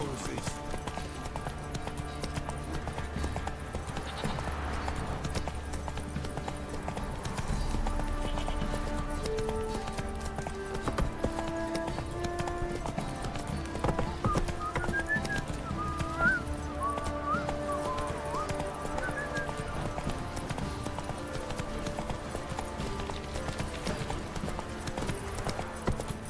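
Roach the horse keeps up a steady clip-clopping trot in The Witcher 3: Wild Hunt, the hoofbeats running continuously beneath game music and spoken dialogue, with an occasional neigh.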